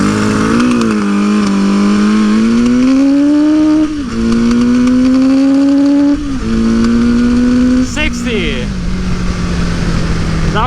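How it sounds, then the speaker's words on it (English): Suzuki GS850 scrambler motorcycle with untuned carburetors racing a DR650 dual sport bike 0 to 60 off-road, a loud close engine climbing through gears with rising whines and abrupt shift drops, and a voice in the background. "the GS850 and the DR650 head-to-head in a 0 to 60 competition"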